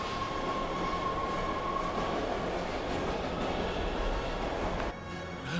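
In the PS3 game Heavy Rain, a train pulls away from a station with a continuous rumbling, rattling rail noise at moderate level. The noise cuts off abruptly near the end, and no one talks over it.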